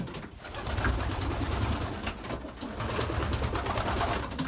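Racing pigeons in a loft give soft, low coos amid a dense, continuous background of bird chatter and rustling, heard up close at moderate volume.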